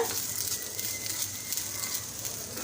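Rice dry-roasting in a kadai over a medium flame, giving a faint, steady dry crackle and hiss that holds evenly throughout with no talking.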